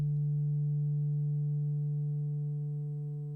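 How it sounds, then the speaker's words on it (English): A steady, pure sine-wave tone from a synthesizer's voltage-controlled oscillator holds one pitch without wavering, fading slightly toward the end with nothing else present. "His voltage-controlled oscillators generated waveforms of various kinds, the most basic of which is the sine wave."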